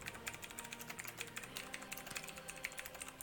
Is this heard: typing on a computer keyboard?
yes